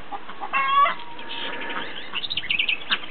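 Chickens clucking and squawking close by, with a brief rising cry near the start and then a run of quick clucks toward the end, no talk.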